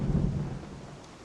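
A low thunder rumble rolls through a rainy biome in LEGO Fortnite, heavy at first and then fading under a faint wash of rain, with no voices.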